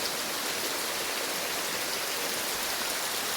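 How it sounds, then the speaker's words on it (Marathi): Steady rain falling, a dense even hiss of drops with no breaks, fairly soft and continuous throughout. "आता इकडे बघा पाऊस पण पडतो या साईडला मस्तपैकी"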